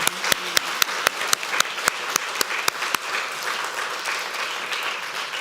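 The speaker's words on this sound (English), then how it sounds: "one more round of applause for this amazing panel?" An audience applauds a panel at the close of a Bank of America Women's Leadership Series evening event. A steady wash of clapping runs throughout, with a run of sharper, evenly spaced claps standing out near the front during the first three seconds.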